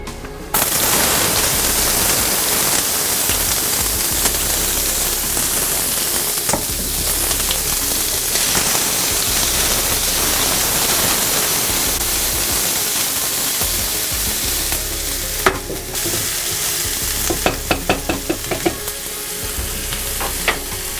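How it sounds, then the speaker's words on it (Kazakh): Onions frying in hot vegetable oil in a skillet, a loud, steady close-up sizzle that runs on for about twenty seconds, with sharper crackles and pops toward the end. "Пиязды бат-баттан кууруп алышыбыз керек."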